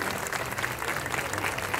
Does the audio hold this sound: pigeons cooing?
no